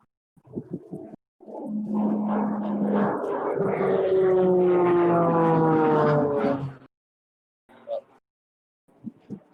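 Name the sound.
trainer aircraft flying overhead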